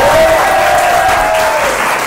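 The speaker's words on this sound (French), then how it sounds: "on peut les applaudir très très fort" Audience at a French stage hypnosis comedy show bursts into loud, dense applause, a full crowd clapping steadily and close.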